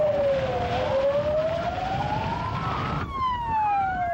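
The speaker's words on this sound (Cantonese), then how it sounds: "至少有30部救護車同埋消防車經青馬大橋趕入機場。" Ambulance and fire engine sirens rushing to the Hong Kong airport after a plane crash wail loudly, one sweeping past close by with a sharp drop in pitch.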